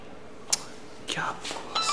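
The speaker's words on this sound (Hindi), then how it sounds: "फोन करके चेक करता हूँ इसको।" A few short electronic beeps sound as keys are pressed on a phone, quiet and close, with soft murmuring in the background.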